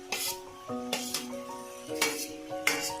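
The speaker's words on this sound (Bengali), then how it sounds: "পনিরটাও সবজির সঙ্গে আমি ভালো করে মিশিয়ে নেব।" Fried paneer is stirred into a vegetable navaratna curry in a pan, with four scraping, clinking strokes of a spoon against metal over a faint sizzle.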